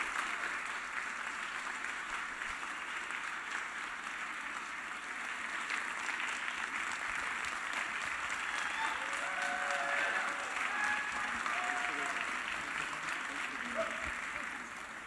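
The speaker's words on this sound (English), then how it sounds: "let's give an applause again to the Alloy Orchestra, Terry Donahue and Ken Whitaker." Festival audience applauding the Alloy Orchestra after a silent film screening, sustained distant applause from a large crowd for the whole stretch, with a voice speaking faintly over it partway through.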